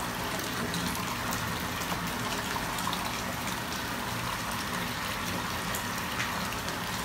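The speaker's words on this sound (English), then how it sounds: "Water's running." Water runs steadily into a bath from the tap, a continuous hiss and splash at moderate level with no talking.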